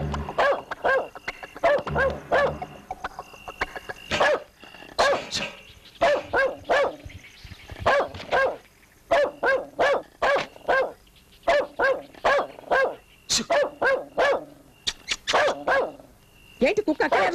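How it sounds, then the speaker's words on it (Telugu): A dog barks repeatedly in a Telugu film scene, sharp yips and bow-wows in irregular bursts throughout, close and loud, mixed with background music. "ఏంటి కుక్క అక్కడ అరుస్తుంది?"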